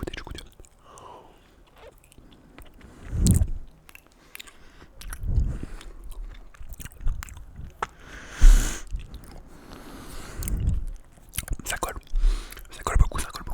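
Close, soft chewing of sticky homemade mochi, with moist squishing bites that come in bursts between quiet whispered talk.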